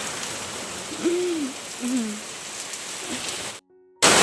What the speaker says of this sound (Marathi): पाऊस आला पाऊस आला